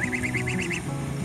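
A little goose named Sam honks excitedly in a quick run of about seven short, evenly spaced calls over a low steady background hum.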